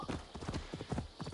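Hooves of a well-travelled horse in Assassin's Creed Valhalla clip-clop in a quick, even rhythm, close and continuous with no talk.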